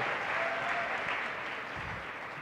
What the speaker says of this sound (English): how about a nice round of applause for both Daniel DeSawell and Zeb Davenport